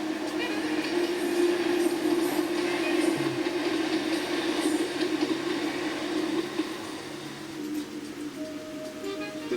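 A Talyllyn Railway train draws into Talyllyn station in Wales, a continuous rumbling roll of carriages and wheels with a hissy wash over it that eases off toward the end.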